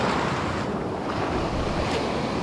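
Low sea waves wash steadily against the shore, a constant loud hiss of surf mixed with wind buffeting the microphone.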